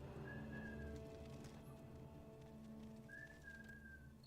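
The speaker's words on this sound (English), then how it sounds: "Excuse my friend and whistling at his dogs." In the video game Morrowind, a character whistles twice at dogs, two short high whistled notes about three seconds apart over a soft, steady ambient background.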